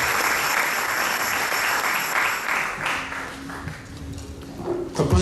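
A congregation claps at a thanksgiving church service in London, loud full applause that thins and fades after a few seconds into scattered claps and room noise.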